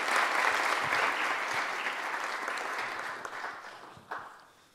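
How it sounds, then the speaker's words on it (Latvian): Warm, sustained applause from a crowd at a regional sports awards ceremony, steady and full at first, then thinning with a few final claps before fading out. "Ar karstiem vētrainiem aplausiem."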